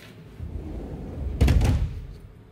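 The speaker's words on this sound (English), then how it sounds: "go ahead and close the doors." The sliding doors of a CNC milling machine are pulled shut in one quick rolling slide that ends in a solid thunk, close and fairly loud against a low background hum.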